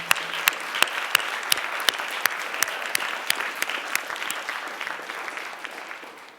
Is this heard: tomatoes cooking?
no